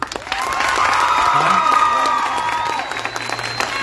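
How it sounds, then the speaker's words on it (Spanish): An audience at a school Día del Indio celebration bursts into loud applause mixed with cheering and children's shouts, a sustained crowd roar with some whistling tones, easing toward the end. "Si nos dan otro aplauso más fuerte, significa que sí les gustó."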